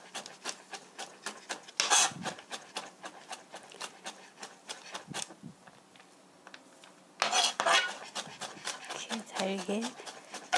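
Knife finely mincing meatball ingredients on a cutting board, a rapid run of sharp chopping taps with a few louder scraping bursts, heard close; a voice speaks now and then.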